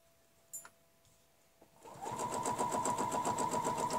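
A sewing machine stitches a quilt along a quilting ruler, starting after a couple of faint knocks and then running steadily and close for the last two seconds.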